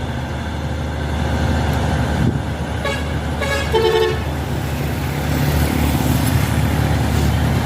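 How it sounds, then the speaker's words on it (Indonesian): A PAW trailer truck, a powerful Chinese-made 450 HP rig, rumbles past on a road amid traffic while a vehicle horn toots briefly in the middle. "Ya, ini ada PAW, truk trailer PAW ya."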